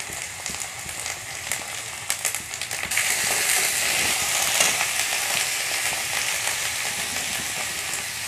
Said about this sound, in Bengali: কড়াইতে দিয়ে দিচ্ছি আরও একটু তেল। দিয়ে দিচ্ছি পেঁয়াজ, রসুন, আদা বাটা।